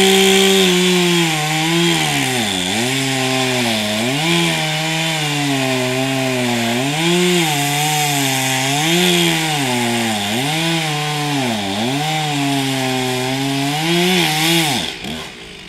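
A loud power saw cuts steadily through a tree during felling, its engine pitch rising and dipping in repeated strokes before cutting off at the end.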